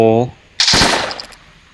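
Burst of rapid gunfire from a Roblox Toilet Tower Defense game, a sharp loud volley after a short tonal sound, then fading out over the following second.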